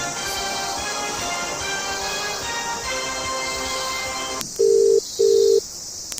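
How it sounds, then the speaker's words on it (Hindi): Telephone call being placed during a KBC-style quiz game: a steady tonal background gives way to two loud, identical ringback tones, each about half a second long, separated by a short gap. "तो आप अपने फोन से कॉल कर सकते हैं।"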